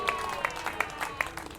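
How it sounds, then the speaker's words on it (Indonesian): A church congregation at a worship service claps in a steady rhythm, with sharp hand claps landing about three times a second over a softer bed of crowd noise. "Berikan sorak-sorai buat Tuhan."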